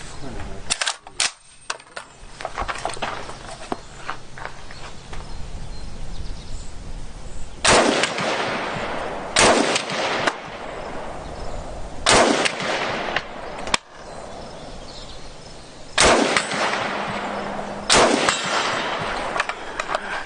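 Norinco Type 97 rifle fired at an outdoor range at 100 yards, several loud sharp shots spaced a few seconds apart, each with a ringing clang, over steady background noise.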